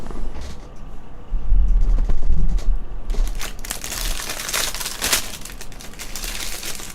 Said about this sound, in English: This is the sound of a zebra cake being opened.